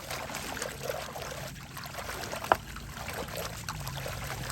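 Water trickles and dribbles from a leaking pipeline in a steady, fairly quiet flow, with one brief splash or knock partway through.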